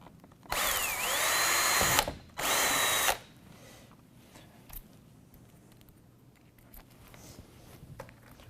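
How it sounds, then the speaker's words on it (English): A power drill pre-drills a small hole for an angle bracket on a window frame for a portable air conditioner: two loud close bursts of whining motor, then quiet handling clicks. "We're going to pre-drill a small hole."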